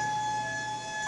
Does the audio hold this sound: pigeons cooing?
no